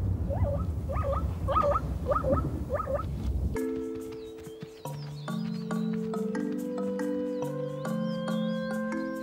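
A lame zebra foal calls out five times in a steady, rhythmic series of thin, wavering cries, then gentle sustained musical notes take over.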